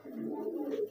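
A pigeon gives a short, soft, low coo close by, a single brief murmuring call with no voices.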